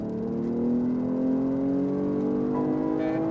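A BMW M240i accelerating on the Dubai Autodrome race track: a loud, continuous engine note rising steadily in pitch as it builds revs, heard from inside the car.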